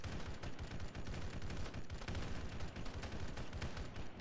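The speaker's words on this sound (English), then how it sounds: "More mortar. Too close." Explosive mortar fire in the military shooter ArmA, heard as a dense, continuous barrage of booming blasts and crackling gunfire. It stays loud and close throughout, with no voices.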